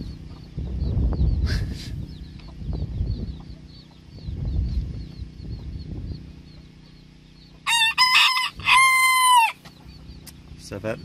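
Low rumbling and handling noise give way to a loud, close Spanish breed rooster crow in two bursts near the end.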